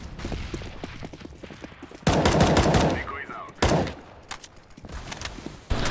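An M249 machine gun in CS:GO fires several loud automatic bursts, the longest near the start and shorter ones later, between stretches of quieter game noise and background talk.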